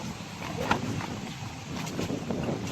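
Strong wind gusts steadily across a fishing spot for carp before rain arrives, a continuous rough rushing and buffeting close to the microphone with no voices.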